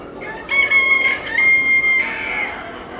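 A chicken gives a loud, close, drawn-out tonal call lasting about two seconds, heard on its own with no talking.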